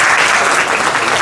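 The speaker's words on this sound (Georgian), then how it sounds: "ნამდვილად იმსახურებს ჩვენი მეგობარი მხურვალი აპლოდისმენტებს" Warm, sustained applause from an audience at a children's Sunday school gathering, steady and loud with dense clapping filling the whole moment and no talk over it.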